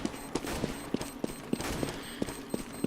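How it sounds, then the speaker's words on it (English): Rifle fire in CS:GO during a competitive tournament match: a steady run of sharp shots crackling out roughly every third of a second, clear and close. "Lil San firing in."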